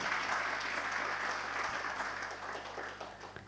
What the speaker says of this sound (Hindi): एक बार ताली बजाओ अपने लिए।